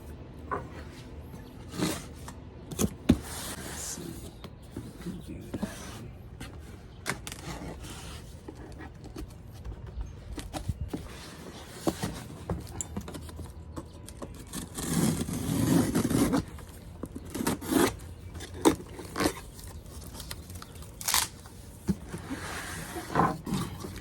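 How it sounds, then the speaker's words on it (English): Hubcap wheel covers for a Tesla Model Y are unboxed, with scattered close scrapes, rustles and plastic and cardboard handling noises coming in irregular bursts, louder scraping in the middle. "I'm going to do an unboxing of this hubcaps from Lasfit"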